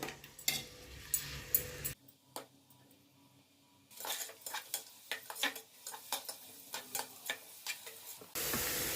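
Onions frying in a pan for tomato bath, with a utensil tapping and scraping the pan in a loose rhythm over a low sizzle, close and moderately quiet, with no voices.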